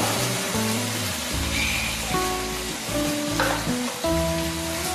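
Beef liver curry with oil, chili powder and salt simmering in a pan, a steady close sizzle and bubbling that continues evenly, with faint background music tones and no talking.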